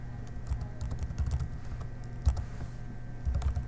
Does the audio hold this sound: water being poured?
no